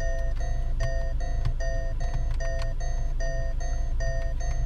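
A Land Rover's turn signal set to a chime-like mode plays a repeating, evenly spaced melodic tinkle of bright tones, steady and clear inside the cabin over a low engine rumble.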